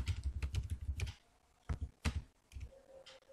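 Array elements being typed on a computer keyboard for a C program: a quiet cluster of rapid key clicks, a short pause, then a few more scattered taps near the microphone.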